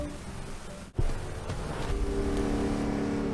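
Camaro IROC-Z racing around Sonoma Raceway's short circuit in Forza Motorsport 6, its high-torque engine droning steadily with harmonic tones after a brief dip, loud and continuous.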